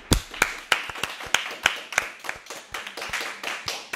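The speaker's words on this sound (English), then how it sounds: "give a special round of applause" A few people clap in a steady, rhythmic beat, sharp close hand claps repeating about three times a second over a soft background of scattered applause, for the class of 2019 leaders at a school event.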